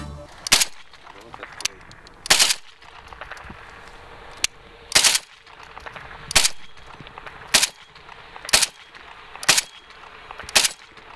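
Sharp bursts of automatic rifle fire from a trench on a military firing range ring out nine times at irregular intervals, each a short loud crack, with faint background noise between.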